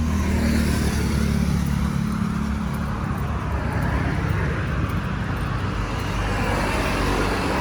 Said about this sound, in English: there's lots of cars out